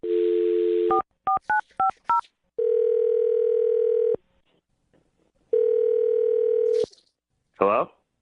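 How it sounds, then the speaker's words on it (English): A telephone line hums with a dial tone, then a quick run of touch-tone keypresses dials a number. Two long ringback tones and a short burst follow, all clear and close with no talking. "I'm gonna dial his phone number right now."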